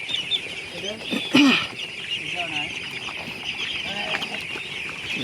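Lively 16-day-old Khaki Campbell ducklings on a duck farm call and chatter continuously at close range, with one louder squawk rising briefly over the steady flock noise.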